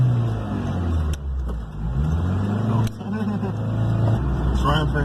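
A 1986 Honda Civic wagon engine, just after head gasket replacement, runs at a high idle with a steady low drone and a few clicks, under talk.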